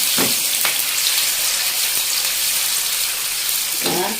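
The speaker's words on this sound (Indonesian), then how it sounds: "Jadi kita goreng setengah matang tahunya." Tofu half-fried in hot oil for a Padang-style beef gulai, giving a steady broadband sizzle throughout with a few brief clatters of stirring near the start and end, close and fairly loud.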